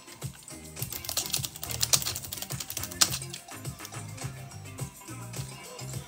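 Keys clatter in quick, uneven bursts as someone types on a computer keyboard, fairly close and soft, with quiet music playing underneath.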